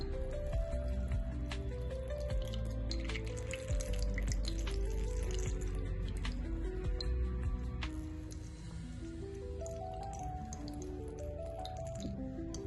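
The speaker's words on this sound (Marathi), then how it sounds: "अगदी हलक्या हाताने दाबून दाबून आपले हे याच्यातलं पाणी सर्व काढून घ्यायचं" Homemade curd pressed by hand to squeeze out its whey for chakka, with a long run of wet squishing and dripping, close and fairly quiet, alone with no talk.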